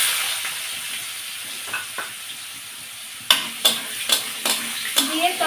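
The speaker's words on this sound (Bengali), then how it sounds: "দিয়ে তরকারিটা সুন্দর করে ভেজে নেব।" Chopped vegetables frying in a pan tempered with fennel seeds, a soft sizzle at first, then a loud run of rhythmic scraping strokes as a spatula stirs them, close and with no voices.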